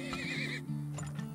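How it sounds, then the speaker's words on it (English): A horse in the video game Turmoil neighs after being slapped, a loud, clear whinny with a falling pitch and a faint clip-clop of hooves beneath, alone and up close. "Slap horse."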